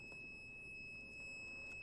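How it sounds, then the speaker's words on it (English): A digital multimeter set to ohms gives its continuity beep, a steady high electronic tone sounding faintly and continuously through the whole moment over a low background hum. "This multimeter that I'm using comes equipped with the beeping function"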